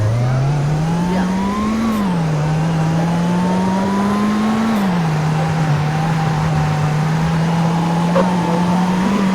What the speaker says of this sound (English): is a turbocharged motor, but it sounds supercharged